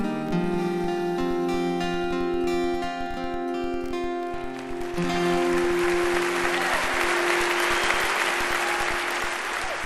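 Applause from an audience following a live performance of a song, steady clapping that fills the clip as the final held music tones fade underneath.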